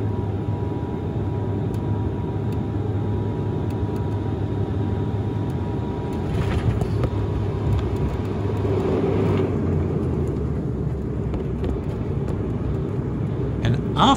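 A propeller aircraft drones steadily on approach to landing, a dense low rumble with a faint tonal hum held at an even, loud level throughout.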